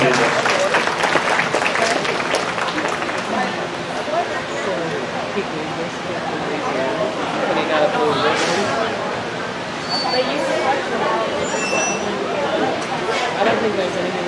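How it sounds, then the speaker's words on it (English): Crowd at a county fair livestock show applauding the junior showmanship winners, a steady broad wash of clapping with some clinks and murmuring voices, loud and sustained throughout. "go ahead and get a round of applause for all 4 of these individuals"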